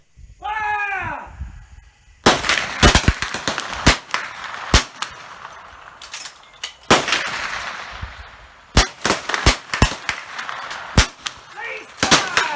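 Volley of .310 Martini Cadet rifle shots at an Australia Day military trainer shoot, a dozen or so sharp loud cracks fired in an irregular ragged string after a shouted command, with scattered near and distant reports.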